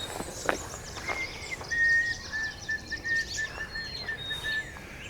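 A white-throated sparrow sings in a Wisconsin north-woods forest, its long, thin, steady whistled notes held level across several seconds, with other faint bird chirps and soft rustling footsteps around it.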